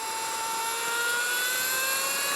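An Alta Redshift SM39 electric motorcycle rolls off the throttle in mode 2 regeneration on Sierra Road, giving a steady high electric motor whine with rising tonal lines over wind rush, loud and continuous throughout.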